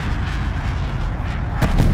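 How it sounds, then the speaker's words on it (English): Dirty bomb going off in Call of Duty: Black Ops Cold War Fireteam mode, a dense, loud, rumbling roar of low blast noise that swells slightly near the end, with no voices. "Dirty bomb detonated."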